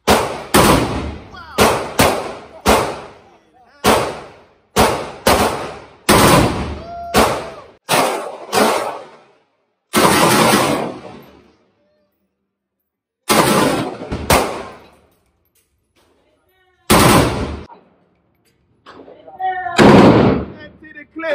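Guns fire at a Las Vegas shooting range in loud close bursts of sharp rapid shots, separated by short silences, with voices talking between some of the volleys.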